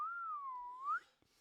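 A person whistles one clear, sustained note, sliding down and back up in pitch to mimic a penny whistle, then it cuts off into near silence.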